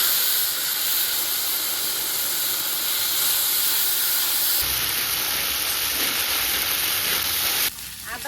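Whole spices, garam masala, bay leaf and dried chilli hit hot oil with a loud, continuous hiss and sizzle that swells partway through, then cuts off sharply near the end.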